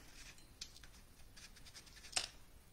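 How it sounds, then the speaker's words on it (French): Scissors snip through stamped paper for a card, a few faint, brief cuts spread over a quiet background, the clearest one near the end. "Alors, je vais découper."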